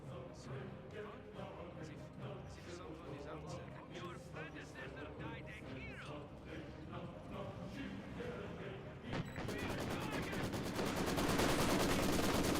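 Rifle and machine-gun fire crackles across a Company of Heroes 2 battlefield as Soviet conscript squads engage German units, rapid shots rattling steadily under a talking voice and growing louder toward the end.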